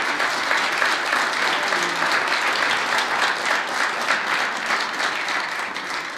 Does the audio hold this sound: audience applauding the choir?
yes